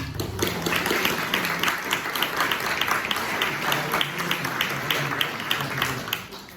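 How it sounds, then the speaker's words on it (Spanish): Audience at a tribute event clapping in a fairly steady, rhythmic applause, many hands at moderate loudness, continuing evenly without speech. "un aplauso para él"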